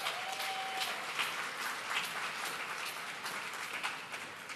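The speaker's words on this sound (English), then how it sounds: "So let's give them a big round of applause." Sustained crowd applause fills a large gathering at the Academy Museum of Motion Pictures grand opening, an even wash of many hands clapping at moderate distance for several seconds.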